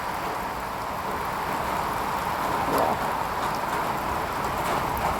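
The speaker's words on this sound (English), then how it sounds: "it is so much raining right now." Heavy rain near a waterfall in Munnar hisses in a dense, even wash of noise throughout, with a faint low rumble underneath.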